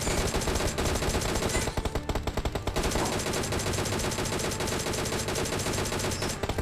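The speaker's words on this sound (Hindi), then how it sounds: "यहाँ पे प्रोन होकर फायर करने की कोशिश" Rapid automatic gunfire from the mobile battle royale game BGMI, fired while prone, sounding as dense, continuous bursts of loud shots with brief pauses, almost without speech.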